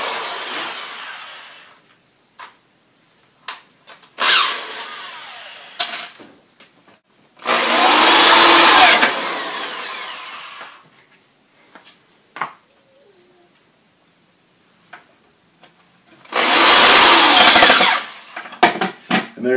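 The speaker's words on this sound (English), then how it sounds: "now I'm going to drill the holes and then put the wood screws in" Power drill boring holes in wood for wood screws, heard as two long, loud bursts of drilling separated by clatter and handling noises, with shorter tool sounds scattered between.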